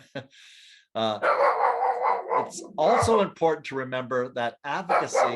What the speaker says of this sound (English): Sorry about my dog here.